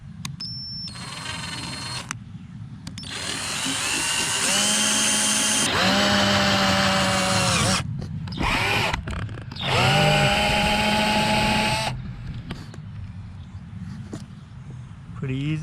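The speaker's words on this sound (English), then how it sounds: "I'm going to drill into the panel." A power drill fitted with a 1/4-inch bit bores into a plastic boat panel on a 2019 Nitro Z18, whining in several loud bursts that rise and stop, separated by short pauses and handling noise.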